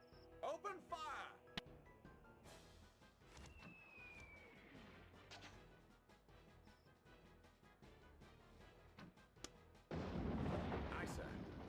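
Artillery and gunfire in the Warhammer: Dark Omen video game: booming cannon blasts and crackling shots, dense and continuous, with game voices speaking and a loud burst of explosive noise near the end.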